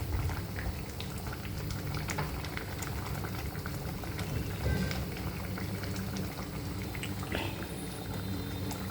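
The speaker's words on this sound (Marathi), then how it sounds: "डाळीला आता 4ही बाजून चांगली उकळी आलेली आहे." Urad dal bubbling at a full boil in a pot, a continuous close burble of popping bubbles with steady level throughout and no voices.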